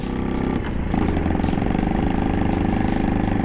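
A Honda Monkey 50 cc motorcycle engine buzzes loudly and close at full throttle, with a brief dip and shift in pitch early on before a steady high drone.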